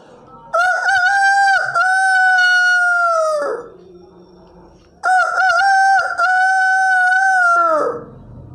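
A man imitates a rooster crowing with his voice. He gives two long, loud cock-a-doodle-doo calls, each about three seconds with a falling tail, separated by a short pause, with no talk around them.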